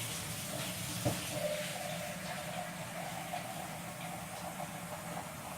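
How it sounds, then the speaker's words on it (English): Steady running water from a kitchen tap, a constant faint rush with a soft clatter partway through. "you can hear a tap running in the background"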